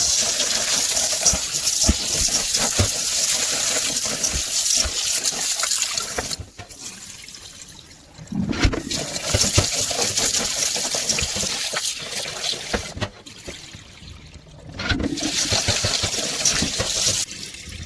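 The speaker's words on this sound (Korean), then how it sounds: "먼저 찹쌀을 물로 씻어주세요" Glutinous rice is washed with water for injeolmi, with steady close splashing, swishing and gushing broken by two short quiet pauses, loud and continuous with no talking.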